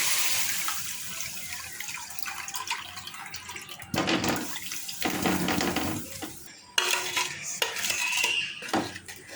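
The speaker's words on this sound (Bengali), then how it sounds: "এখন আমরা একটা প্যানে আচারটাকে ঢেলে দিব" Hog plum pickle is poured into a pan in a home kitchen, with wet pouring and sloshing, scraping, and clinks of metal utensils and cookware that come in bursts and grow louder partway through.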